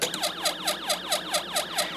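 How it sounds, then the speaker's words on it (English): A police-style siren from a Snap Circuits alarm IC plays through a small speaker, sweeping rapidly up and down in quick repeated wails about four per second, thin and electronic, with no voices. "we can clearly hear the police siren coming from our speaker"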